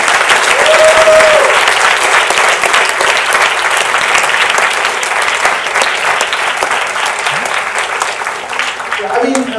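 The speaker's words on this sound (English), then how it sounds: "Please stand up and let's all give them a big round of applause." A seated audience at a conference gives the three speakers a loud, sustained round of applause, dense and even throughout with a brief cheer near the start and a faint voice at the close.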